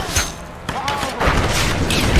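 In the video game Tomb Raider, a gunshot sets off a gasoline fire with a booming thud, followed by a roaring burst of flame and crackling. Someone talks over part of it.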